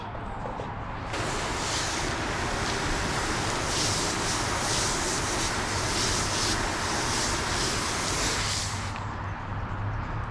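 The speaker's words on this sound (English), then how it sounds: "Let me go ahead and rinse this off." Water sprays steadily from a hose to rinse shampoo off a ceramic-coated car, with a loud, continuous hiss that starts abruptly and cuts off near the end.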